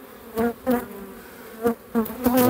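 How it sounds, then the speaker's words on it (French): Honeybees buzz around a hive during a spring inspection, several loud close passes of individual bees droning past in bursts over a softer hum. "Ça, c'est une ruche qui a redémarré la pompe de très bonne heure."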